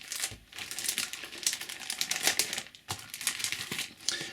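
Match Attax Extra 2013-14 trading card being slid out of its plastic sleeve, close crinkly rustling and crackling in short irregular bursts, no talk.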